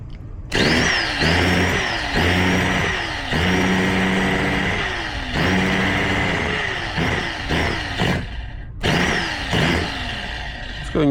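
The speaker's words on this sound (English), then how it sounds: "Let's see if she's going to fire up." A 1990 Kyosho Madcrusher RC truck's small nitro engine sputters as it is started, then catches and runs with a high, buzzing whine, its revs rising and dipping in repeated throttle bursts, close and loud.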